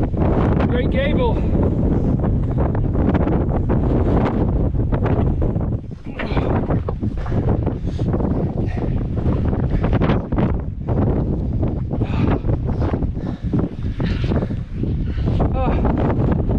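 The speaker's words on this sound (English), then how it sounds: "Summit of a very windy Great Gable." Strong, continuous wind on the summit of Great Gable roars and buffets the microphone throughout, loud and gusty, with a voice briefly audible beneath the blustering.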